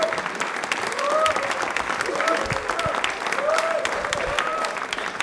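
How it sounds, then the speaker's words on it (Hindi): A studio audience at a televised quiz show gives a guest steady applause, a continuous wash of clapping with faint cheering voices rising through it. "एक बार प्लीज तालियां आशुतोष जी के लिए जोरदार वाली हो जाए"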